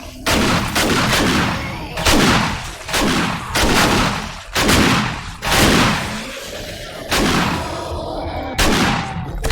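Heavy gunshots in the survival game 7 Days to Die during a horde night, about eight loud, booming shots spaced roughly a second apart, each ringing out and decaying before the next.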